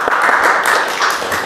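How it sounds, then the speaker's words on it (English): Sustained audience applause for a rabbi's evening talk on a community topic, a dense wash of many hands clapping steadily and fairly close, with no speech over it. "let's give a round of applause to Rabbi Benzion,"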